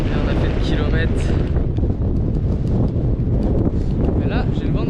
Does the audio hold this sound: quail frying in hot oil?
no